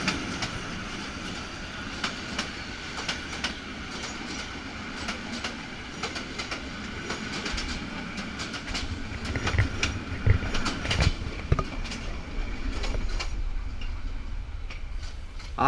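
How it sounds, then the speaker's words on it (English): A big locomotive passes close by outside Yangon railway station, its steady rolling rumble with clattering wheel clicks building louder toward the end. "We had to sit outside the station for some time until this big locomotive came past."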